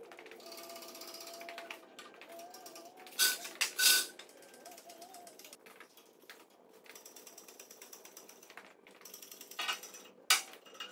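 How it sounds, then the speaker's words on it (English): A shop crane lifting a heavy vise from its mount gives off repeated ratcheting clicks and mechanical clatter, with a few sharp, louder bursts early and near the end over a low steady background. "I'm gonna try to pick up from the vise mount with that crane"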